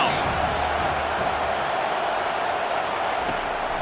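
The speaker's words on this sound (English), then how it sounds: "Decibels rising as the crowd gets behind this defense on third down" Stadium crowd in the NCAA25 college football video game, Oregon vs South Carolina, roaring for the defense on third down: a dense, continuous wall of cheering noise at steady loudness, with a commentator's voice over it.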